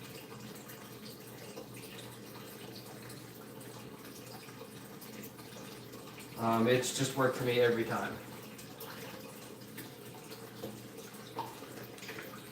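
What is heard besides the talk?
tap water running into fish tank during water change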